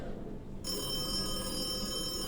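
A telephone rings on a stage during a school drama performance of Noises Off, a steady electronic bell tone starting after a brief moment of quiet room noise and continuing alone.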